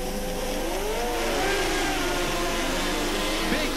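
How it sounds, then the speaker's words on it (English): Racing bikes roar off the start of a 1986 Surfers Paradise race, a dense, loud wall of engine noise with rising revs as the machines accelerate away together. "Big start from Donny Osborne on bike three as he wheel stands away"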